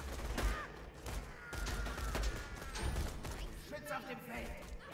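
Turret gunfire in Borderlands 2 rattles in quick, uneven bursts of mid-level volume, continuous throughout, with someone talking over it.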